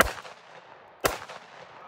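Two sharp outdoor reports from a 12-gauge pump shotgun fired at clay targets, about a second apart, each a loud crack that fades into a short echo.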